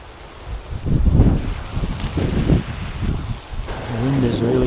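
Wind blows steadily through heavy rain, gusting and rustling in uneven bursts close to the microphone over a continuous wet hiss.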